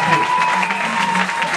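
A crowd applauding and cheering at a lively gathering, steady dense clapping with voices mixed in throughout, loud and continuous with no pause.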